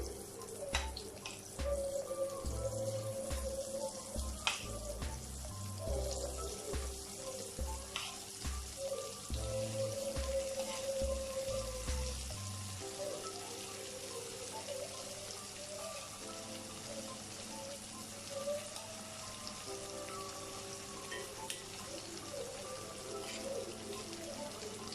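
Elephant foot yam slices fry in hot oil, a steady close sizzle and bubbling that lasts throughout, with soft background music in the first half.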